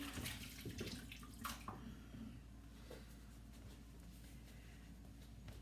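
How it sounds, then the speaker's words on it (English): Water runs from a faucet into a sink as hands are washed, a soft steady splash with a few small knocks and rubbing sounds early on, fairly quiet and close. "let me wash my hands"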